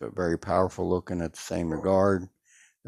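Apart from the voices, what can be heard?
None of the usual background noises is heard.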